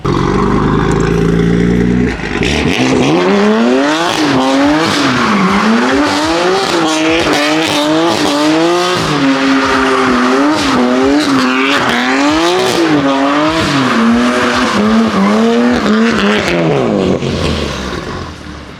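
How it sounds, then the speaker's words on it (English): BMW cars doing donuts at a street cruise, an engine revving hard in repeated rising and falling waves under continuous loud tire squeal, close and intense for about fifteen seconds before easing off. "gonna attempt to do a couple donuts right here"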